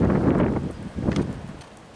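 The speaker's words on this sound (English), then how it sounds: "You can hear the wind," Wind rushes through trees at dusk, including a pine, in broad gusty swells that rise, ease and rise again, fairly loud with no one talking.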